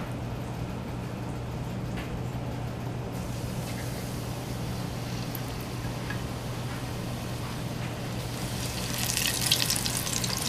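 Cajun-seasoned chicken, sausage and shrimp kabobs sizzle in hot oil in a Fry Daddy deep fryer: a steady, moderate hiss under a low electrical hum that grows brighter and more crackly near the end.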